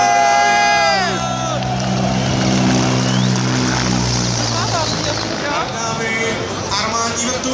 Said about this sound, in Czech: armádní vrtulník